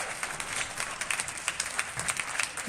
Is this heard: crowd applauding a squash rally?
yes